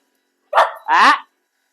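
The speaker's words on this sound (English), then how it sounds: "She barked once." A dog gives two short, close barks in quick succession, loud and clear against silence.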